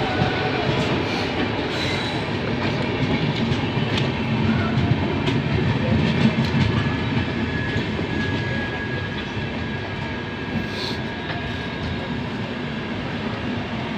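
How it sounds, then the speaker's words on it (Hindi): Punjab Mail passenger train rolling into a station: a continuous loud rumble of wheels and carriages with faint rail clatter, steady throughout and close by. "ये ट्रेन है Punjab mail Punjab mail train तो अभी आ चुकी है"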